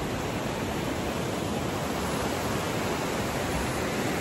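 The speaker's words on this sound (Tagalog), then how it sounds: "Malakas ang alon." A steady, loud roar of heavy surf on the British Columbia coast in Canada, continuous and unbroken, like strong waves crashing nearby without pause.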